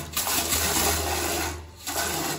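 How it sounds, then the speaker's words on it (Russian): Handheld bidet shower beside a toilet in a black-and-white bathroom spraying water, a close hissing rush with a brief dip near the end before it picks up again. "Возьмем наш гигиенический душ, откроем его и можем спокойно"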